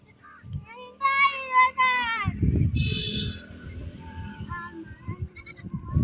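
A goat bleats in a farmyard, a drawn-out wavering call near the start followed by a shorter cry, with bustling movement and rustling noise underneath and a person's voice nearby.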